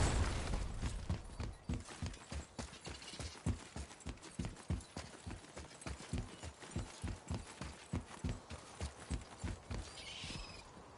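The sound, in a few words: horse hooves clip-clop, from video game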